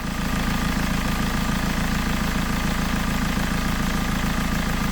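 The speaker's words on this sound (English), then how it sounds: "what we could do is just start the engine up again and see what happens." A BMW E46 320D diesel engine with an EGR thermostat leak idles steadily nearby, a continuous even rumble with no voices.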